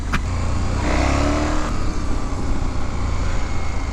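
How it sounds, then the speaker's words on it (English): A 2019 KTM 1290 Super Adventure S motorcycle engine pulls with a steady, close growl that swells for about a second and a half, then keeps a continuous loud rumble while riding into town. "Oh, that engine is lovely. It just growls at you."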